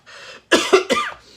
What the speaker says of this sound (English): My cough has not gotten better.